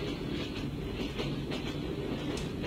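A train running along its rails, heard from inside a passenger carriage outside Thailand: a steady, close rumble with faint rhythmic clatter that holds level throughout, with no talk.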